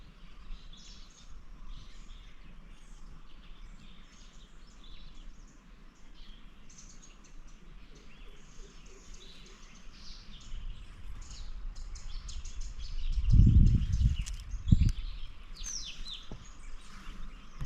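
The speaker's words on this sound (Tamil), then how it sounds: "இந்த காட்டுக்குள்ளே இருக்கிற குருவிகளோட சத்தம் வந்து ரொம்ப அதிகமாக கேட்குது" Small sparrow-like birds chirp in a forest. Many faint, high chirps and tweets overlap steadily at a distance, with a brief low rumble of nearby movement near the end.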